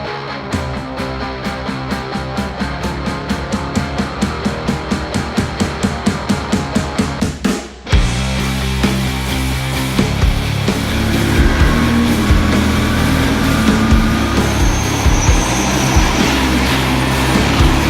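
Race cars roar off the line together at the start of a 24-hour race at Portimao: a loud, dense wall of engine noise that jumps sharply and stays full after a brief dip, with several machines revving at once.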